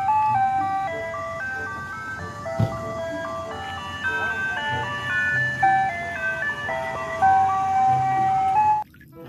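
A toy ice cream truck plays a bright, tinkling electronic jingle melody continuously for several seconds, close and clear, then cuts off abruptly at the end; a faint voice murmurs underneath.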